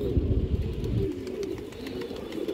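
Domestic pigeons of mixed fancy breeds coo in low, throaty rolls, loud and close for about the first second and then softer and continuous. Faint chirps from other birds sit in the background.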